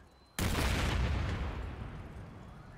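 A Qunari battleship explodes in the video game Dragon Age: Inquisition: one sudden, loud, deep boom that rolls into a long, rumbling, slowly fading decay.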